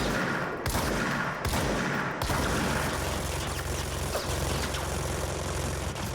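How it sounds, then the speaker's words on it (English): Sustained enemy gunfire in the game Control, a loud, steady stream of rapid shots with a few brief gaps early on, then continuous fire over low mechanical rumble. "Are you ever gonna stop firing?"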